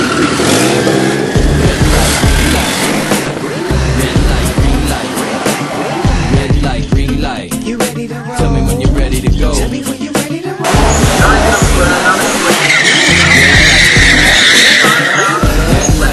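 Bracket drag race cars launching side by side off the line, loud engines roaring with screeching tire squeal and skidding, revs rising and falling over the run and staying loud throughout.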